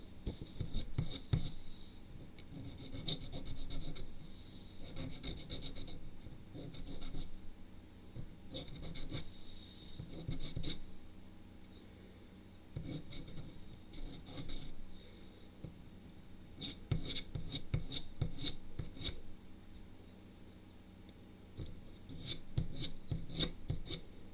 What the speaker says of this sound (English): let me get this fine sandpaper